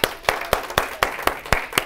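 Hands clap in an even, steady rhythm, about four sharp claps per second, as audience applause, with no voices.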